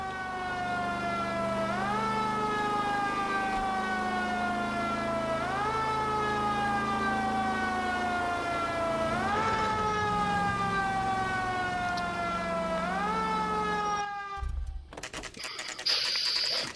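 Wailing ambulance siren from the video game L.A. Noire, rising and falling in steady sweeps every few seconds, loud and continuous, then cutting off near the end into other noise.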